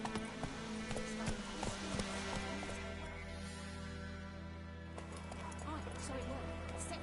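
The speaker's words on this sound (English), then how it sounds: "Run, Roach." Horse hooves clip-clopping at a run in The Witcher 3 video game, a steady rhythmic gallop with game music and ambient sound beneath, and speech in the background throughout.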